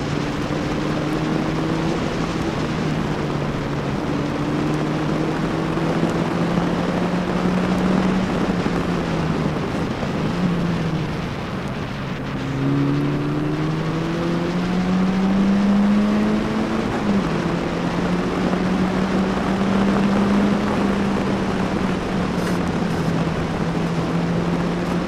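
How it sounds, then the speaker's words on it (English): Formula Ford racing car on the Charade circuit at Clermont-Ferrand: a continuous engine drone whose pitch climbs and drops with gear changes and throttle, steady and fairly loud with no voices. "Avec cette... avec cette Formule Ford."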